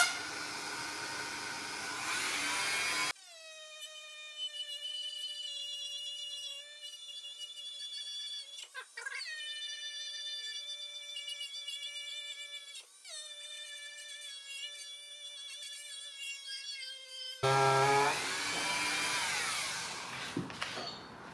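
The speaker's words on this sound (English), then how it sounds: "this Dremel with that foam, that woolen pad, gets it all off and polishes it up beautifully" A Dremel rotary tool fitted with a woolen polishing pad buffs pitted chrome on a 1937 Ford Fairlane, its steady high whine running continuously for about fourteen seconds with brief dips as the pad shifts, framed by louder workshop noise.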